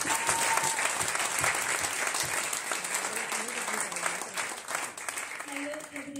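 Enthusiastic audience applause at a beauty product training session, a dense crowd clapping steadily, with faint voices and a brief tone mixed in near the end.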